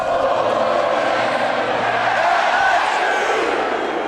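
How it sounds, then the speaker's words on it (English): A packed LSU Tiger Stadium crowd roars in a steady, dense wash of cheering and shouting, loud and unbroken, with no distinct voices standing out. "As the crowd swells toward capacity, the band whips the Tiger fans into a frenzy with the LSU alma mater."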